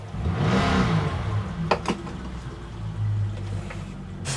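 The outboard engine of a police auction boat with a suspected fuel problem runs rough, surging up and down. Its uneven revving is heard up close with a few clanks mixed in.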